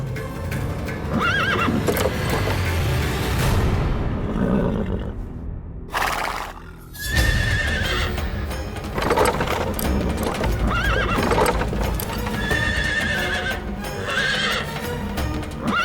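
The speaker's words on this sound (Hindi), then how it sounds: "घोड़ा आगे ही नहीं बढ़ रहा है।" A chariot horse that refuses to move forward neighs loudly and shuffles its hooves in clip-clops, with a dramatic orchestral score underneath and a short quiet gap partway through.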